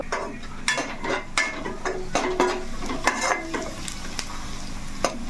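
Onions frying in a pan while being stirred, with a steady low sizzle beneath repeated scraping and clinking strokes of a utensil against the metal, close and moderately loud.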